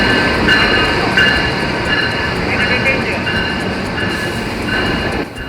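A Ranggajati stainless steel passenger train rolls into Gubeng station, its wheels and cars producing a loud, steady rumble with high metallic squealing tones, close by and continuous.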